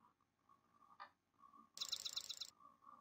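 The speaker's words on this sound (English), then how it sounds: "I love the birds chirping." Birds chirp and call in the video game Defend Your Castle: sparse soft calls with one short bright burst of rapid twittering midway, heard alone without talk.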